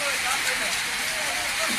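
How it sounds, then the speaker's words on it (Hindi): Rain falls in Dostpur, a soft continuous hiss of drops on surfaces, steady and moderately loud throughout with no clear voices over it. "आज दोस्तपुर में इतना दिन इंतज़ार करने के बाद में बारिश हो रहा है"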